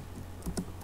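A few distinct keystrokes on a computer keyboard, entering a school name into an online form; two clearer taps stand out near the end over quiet room noise, with no voices.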